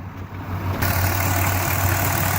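A 2002 Dodge Grand Caravan Sport wheelchair van with a 3.3 V6 idles steadily under the open hood, a close, even engine hum that grows slightly louder after a brief start, with no talking.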